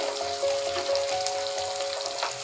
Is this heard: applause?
no